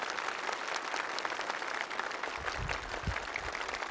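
Audience applause at a military stage show honouring border soldiers, dense sustained clapping from a large crowd, steady and loud throughout.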